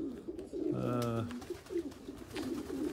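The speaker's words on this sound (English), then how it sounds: "Hugo, this is your ace pigeon." Racing pigeons in a loft give low, repeated coos close by, with a brief clanking sound mid-way and people talking over them.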